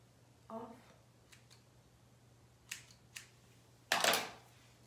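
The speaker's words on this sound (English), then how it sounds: "I'm gonna cut a little bit off." Scissors trimming baby hair along the hairline give two or three soft, crisp snips, spaced about half a second apart and close by. A brief murmur comes before them, then a louder rustle, probably brushing, near the end.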